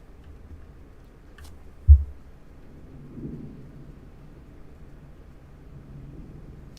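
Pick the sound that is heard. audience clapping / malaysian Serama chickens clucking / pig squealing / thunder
thunder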